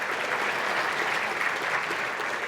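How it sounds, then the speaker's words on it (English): Steady, dense applause from a large audience at a technology awards show, a continuous loud wash of many hands clapping without pause throughout. "One more big round of applause."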